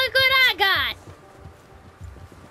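Horse hooves from Red Dead Redemption 2 clopping in a soft irregular walking rhythm at close range, following a short burst of spoken voice at the start.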